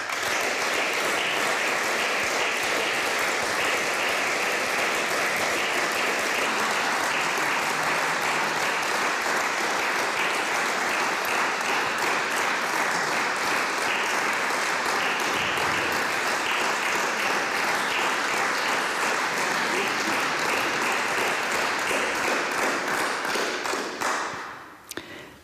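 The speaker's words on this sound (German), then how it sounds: "dieser Applaus hat dir gezeigt, wie sehr wir dich schätzen" Sustained, dense applause fills an Austrian Bundesrat parliamentary chamber for about 25 seconds at steady loudness, then tapers off abruptly at the end.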